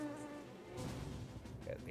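A mosquito buzzes in a steady, continuous whine that holds for about two seconds, fairly close and without pause.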